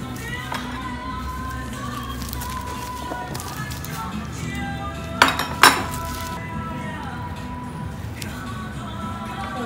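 Coconut heart salad with shrimp and pork is tossed in a bowl, utensils clinking and scraping against it in a near, busy patter, with two sharper clinks midway over a low background hum.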